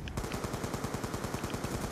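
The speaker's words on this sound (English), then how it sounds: "I hear LMG fire, but I don't know from where." A sustained burst of rapid LMG machine gun fire in Black Ops 2, loud, steady and continuous for the whole stretch.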